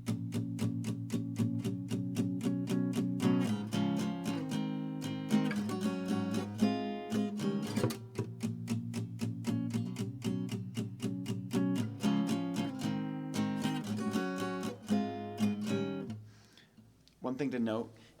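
Acoustic guitar playing a song bridge, a steady run of strummed chords with clear transitions between three chords, close and alone, fading out near the end.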